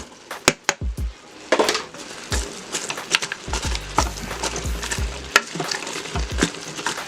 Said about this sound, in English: we're going to let that cook down for just a little bit with the onions and the meat